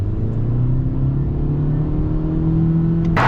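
Steady engine drone with a low rising tone from a 2023 Honda CR-V EX with a turbo engine as it accelerates, a continuous close rumble that builds gradually without speech.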